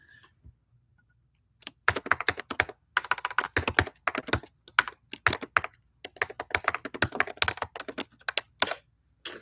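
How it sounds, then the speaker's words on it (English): Fast typing on a somewhat faulty MacBook laptop keyboard: close, crisp key clicks in bursts of rapid strokes separated by short pauses, with no talking. "My MacBook keyboard is a little bit wonky, though, so that took way longer to type out than I wanted to"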